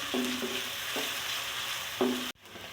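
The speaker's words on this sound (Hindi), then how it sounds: "प्याज को ब्राउन करती हूँ" Onions browning in hot oil in a pan sizzle softly and steadily. A few short utensil clinks and scrapes come through, then the sound cuts out abruptly near the end.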